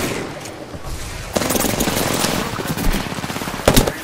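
Rapid bursts of video game gunfire from a game called Prowler crackle loudly and densely through most of the stretch, with sharper shots standing out near the end.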